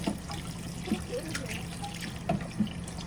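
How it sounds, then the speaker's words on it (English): Hands are rinsed under a running kitchen tap, with a steady close stream of water splashing continuously throughout. "let's just rinse off my hands real quick so I get more flour"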